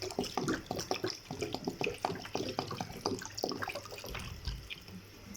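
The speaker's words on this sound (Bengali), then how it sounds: "তো একটু ভালো করে নেড়ে এখন ঝোল দিয়ে দিচ্ছি।" Broth poured into beef curry in a cooking pot, a close splashing liquid stream with rapid irregular drips and small knocks running throughout, alone without talk.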